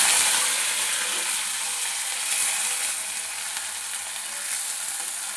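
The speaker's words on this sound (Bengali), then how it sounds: "একটু ভেজে নেব।" Onion, ginger and garlic frying in hot mustard oil in a pan, a steady, close, loud sizzle that continues without pause and with no voices over it.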